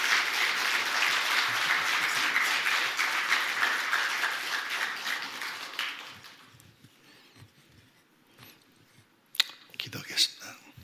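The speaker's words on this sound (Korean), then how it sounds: "우리 목사님 나오실 때 박수로 환영하도록 하겠습니다" A church congregation at a revival meeting welcomes the pastor with loud sustained applause that fades after about six seconds, followed by quiet room sound and a few scattered knocks.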